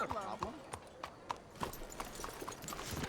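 Horse hooves clip-clopping at an even walking rhythm in Red Dead Redemption II, a series of sharp close hoof strikes under someone talking.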